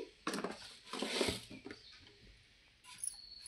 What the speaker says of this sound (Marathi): त्या दह्यात आता साखर टाकून घ्यायची। 4 चमचे साखर टाकायची